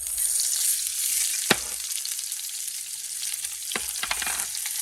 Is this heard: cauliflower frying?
yes